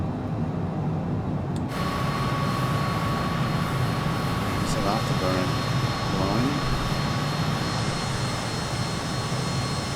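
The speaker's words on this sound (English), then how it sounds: "Is that afterburner going on?" MiG-21Bis Fishbed jet with afterburner lit in Microsoft Flight Simulator, a steady loud broadband roar with a thin whining tone, continuous throughout with faint voice traces beneath.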